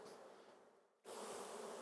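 Honeybees hum at the front of a hive, a soft continuous buzz that drops out for a moment and returns, quiet and close.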